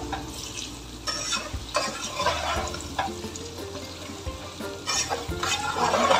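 Salted eggplant frying in oil for biryani, a moderate sizzle broken by repeated stirring scrapes and clanks against the pan, close and fairly steady, without speech.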